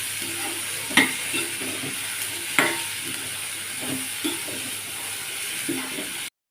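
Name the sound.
cluster beans stir-fried in oil with a spoon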